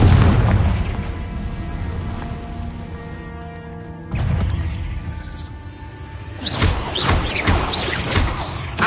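A Confringo blasting spell going off in a wizard game, with a heavy booming blast that decays into a long rumble, then a second explosion and a burst of crackling debris, loud and alone.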